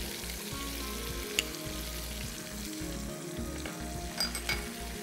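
Yogurt hits a hot marinade in a pan for Afghan boti, a steady, close sizzle with faint stirring scrapes and a couple of small clinks throughout, no speech.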